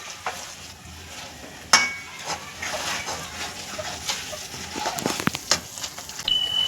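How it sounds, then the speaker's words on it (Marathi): Potato halva is stirred in a pan with a spoon, giving soft scraping and a faint sizzle, punctuated by a few sharp clinks against the pan. "आणि आता आपण हे छानपैकी हलवून घेणार आहोत."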